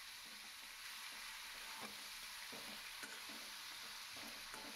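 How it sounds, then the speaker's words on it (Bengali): Mixed vegetables with salt and turmeric fry in a pan for khichuri, a soft continuous sizzle with occasional light utensil scrapes as they are stirred, faint and even throughout without speech. "এবার নুন হলুদ দিয়ে ভালো করে সবজিগুলোকে নাড়িয়ে চাড়িয়ে নেব।"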